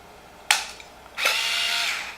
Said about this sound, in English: I'm going to go ahead and use my powered screwdriver